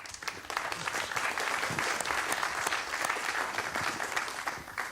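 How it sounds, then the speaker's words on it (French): A conference hall audience applauds a speaker after a testimony, a fairly quiet but dense, continuous patter of many hands clapping throughout, with no talking over it. "Je pense qu'on peut l'applaudir."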